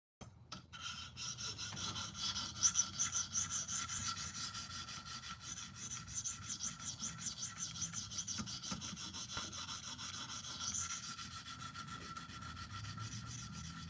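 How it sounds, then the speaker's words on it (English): A blade being sharpened during a live sharpening session, giving a steady, continuous rasping rub that runs nearly unbroken for the whole stretch at moderate loudness, with no talk. "some people might want to actually see me sharpening this"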